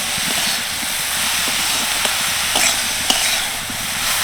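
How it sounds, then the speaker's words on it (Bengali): Vegetables frying in a pan with salt, turmeric and garam masala as they are stirred, a steady close sizzle with scraping stir strokes and small clicks throughout. "ভালো করে সব কিছু মিশিয়ে ভাজা ভাজা করে নেব"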